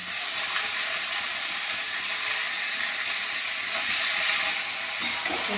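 Onions, pumpkin and vegetables being stirred in a frying pan: a loud, continuous hissing sizzle with faint scraping of the spatula throughout, swelling slightly toward the end.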